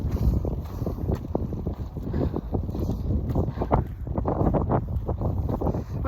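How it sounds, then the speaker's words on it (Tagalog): A strong cold wind buffets the microphone with continuous rough, gusting rumble and roar, loud and close throughout. "Malakas po yung hangin. Malamig."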